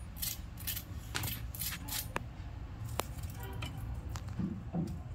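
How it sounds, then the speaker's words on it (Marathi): A fork taps and crunches through golden fried cabbage bhaji, with several light, crisp clicks and scrapes up close over a steady low background hum. "आता मी एक काटा चमच्याच्या साहाय्याने तुम्हाला त्याचा आवाज दाखवते."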